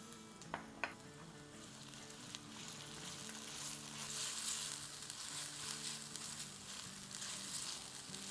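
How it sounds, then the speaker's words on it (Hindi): Ginger and garlic sauté with onions in a hot pan for green keema, a steady close sizzle hissing without pause, with a couple of light clinks near the start. "तो इसके साथ भी थोड़ा सौटे करेंगे।"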